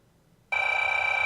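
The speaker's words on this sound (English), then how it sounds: "let's grab some phones, different kinds of ringing phones, and bring them in here." An office telephone ring effect switches on abruptly after a short silence, then holds as a steady, bright electronic tone.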